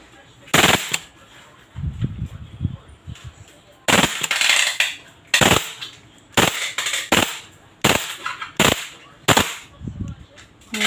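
A WE M4 CQB gas blowback airsoft rifle fires full auto in short sharp bursts, loud cracking volleys separated by pauses, with someone speaking briefly between them.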